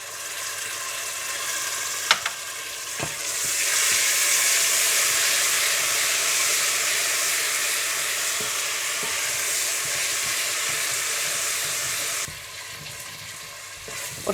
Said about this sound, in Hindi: और बाकी प्याज में आप अदरक लहसुन डालकर भून लें।